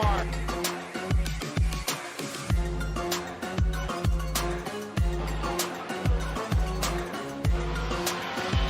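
Late model race cars run on the mini oval at Nashville Fairgrounds with a continuous, loud engine roar and repeated revving surges as cars pass, dense and busy with a commentator's voice partly underneath.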